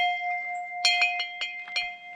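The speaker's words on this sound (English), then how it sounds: "rope to pull the bell" A freestanding bell on an assembled stand, rung by pulling its rope, sounds a sustained ringing tone with a series of sharp repeated strikes, clear and close with no talking.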